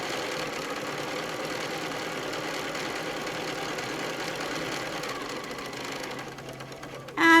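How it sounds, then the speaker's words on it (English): A sewing machine runs steadily, stitching a quarter-inch seam along a football-shaped pincushion piece. Its close, even mechanical whir continues unbroken before stopping near the end. "starting at the top of the football, we are going to stitch a 1/4 inch seam"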